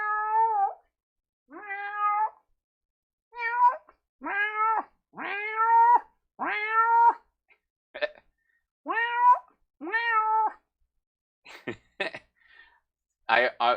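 Several house cats meowing repeatedly in an indoor home setting, about a dozen distinct meows in uneven bursts with pauses between them, fairly close, ending with a few short coughing or hiccup-like sounds.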